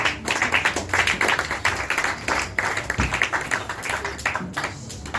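Church congregation applauding together during a French-language service, a steady dense patter of many hands clapping at close range throughout, with a few murmured voices underneath.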